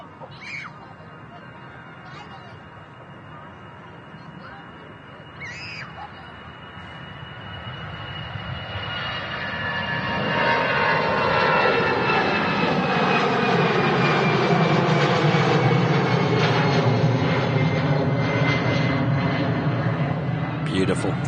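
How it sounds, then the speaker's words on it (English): An easyJet jet airliner taking off at Manchester Airport, its engine roar swelling from a distant rumble into a loud, sustained broadband roar over the second half, with a few faint bird calls early on and a voice heard in the background. "easyJet on the roll. This one heading out to Amsterdam."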